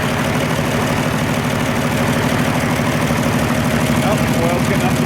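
An Oliver 1550 diesel tractor engine idles just after starting, a loud, close, steady low knocking chug that runs without a break.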